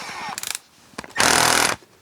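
A Milwaukee M12 Fuel cordless electric drill revs in short bursts, first a few stuttering pulses, then a loud sustained whir of about half a second before cutting off.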